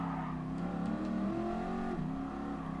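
A Shelby Cobra engine drones steadily from the cockpit in Gran Turismo Sport, a low throaty hum shifting pitch slightly as it holds speed, with no talking.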